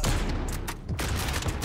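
Rapid bursts of MK2 Carbine rifle fire in the shooter game Modern Warfare, several sharp close shots in quick succession over a booming low rumble.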